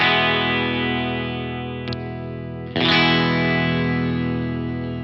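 Electric guitar fitted with DeArmond and Guyatone gold foil pickups, a sustained clean chord ringing with chorus-like shimmer, a quick second strum re-attacking it near the midpoint, then the note slowly decaying.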